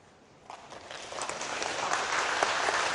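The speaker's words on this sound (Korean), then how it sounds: "이때 박수 나와야 되는데" Applause from an audience at a Korean union regular assembly lecture, starting sparse and quickly swelling into steady, dense clapping that holds to the end.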